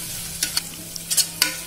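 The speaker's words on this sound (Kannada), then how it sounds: "ಸ್ವಲ್ಪ ಹಸಿ ವಾಸನೆ ಹೋಗೋವರೆಗೂ ಹುರ್ಕೋಬೇಕು." Chili powder and biryani masala are stirred and fried in a pan for egg biryani, with soft sizzling underneath and several sharp scraping strokes of a spoon against the pan, close and without talk.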